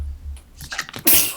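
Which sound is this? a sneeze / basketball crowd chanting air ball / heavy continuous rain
a sneeze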